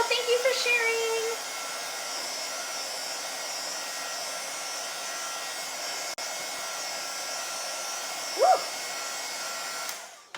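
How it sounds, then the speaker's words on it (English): A heat tool blows hot air over wet chalk paint at a craft table, a steady loud whooshing hum running nearly the whole time with brief voice snippets at the start and midway. "No, heat tool, it helps dry."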